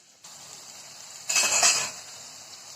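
Green chillies fry in a little oil in a pan for soya bean biryani, a steady soft sizzle with a short metallic scrape or clink of a utensil against the pan partway through.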